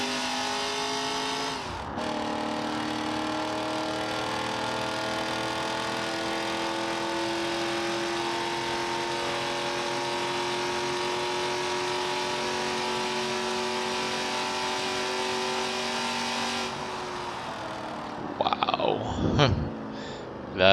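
Sustained high engine drone of a car revving in BeamNG.Drive, a Corvette C6 ZR1 or supercharged Mustang Dark Horse, holding steady pitch for long stretches before dropping off, with brief talk at the end.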